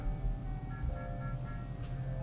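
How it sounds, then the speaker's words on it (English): An ice cream truck passes outside, its faint chiming jingle drifting in over a steady low rumble of traffic, with no talk over it. "Also, here comes the ice cream truck,"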